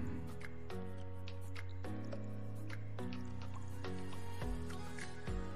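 Wheat flour dough being kneaded by hand while water is added little by little, soft wet squelching presses and drips repeating about once a second, quiet and close.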